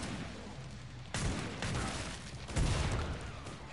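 Gunfire in a video game, heard as three sharp, loud shots a few beats apart, each a heavy boom over a steady background rumble.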